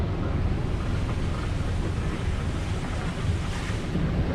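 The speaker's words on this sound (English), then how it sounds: "All these locks tend to have an overflow, so the overflow's on the other side. I can hear it. It's just a big waterfall" Canal lock overflow on the Erie Canal pours like a big waterfall, a steady loud broadband rush of falling water that fills the whole clip without pause, with no voices over it.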